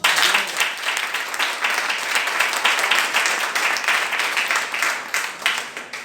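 A church congregation at a French-language worship service claps and cheers loudly and steadily for about six seconds. The crowd sound is close and continuous, with faint voices mixed into the applause.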